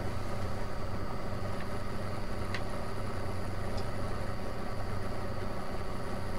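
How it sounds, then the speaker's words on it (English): Tractor engine idling in Farming Simulator 19, a steady low, even rumble that holds alone at moderate level with no speech, plus a couple of faint brief ticks. "I love the sound of this tractor."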